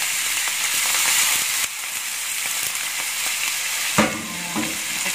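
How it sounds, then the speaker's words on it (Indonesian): Shrimp sizzle loudly in a pan while being stirred, a constant close frying hiss broken by scraping strokes and a sharp clatter near the end. "Nah, lalu kita masukkan udangnya. Kita aduk-aduk sebentar."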